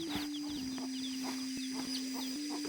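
A chicken clucks in a small mountain village without electricity, several short clucks scattered irregularly over a steady high electronic-like hum and a low tone, fairly quiet and alone.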